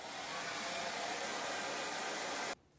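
Hair dryer blowing on orange paint on an owl door hanger craft, a loud steady whoosh held for about two and a half seconds before cutting off abruptly.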